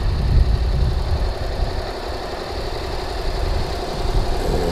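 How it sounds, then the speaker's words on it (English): A motorbike idles close by at an airport viewing spot, a steady low engine rumble with a slight knocking pulse, wind noise blowing across it throughout. "I've got a motorbike just by me, about to go"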